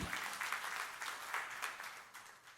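An Indonesian church congregation claps in a lively, uneven burst, the sound pulsing in waves for a couple of seconds before easing slightly.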